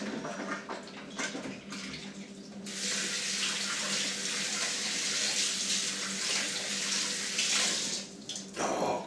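Kitchen tap runs while hands are washed clean of grease from preparing a bird for roasting, a steady rushing stream of water that starts partway through, after some handling noises, and stops near the end.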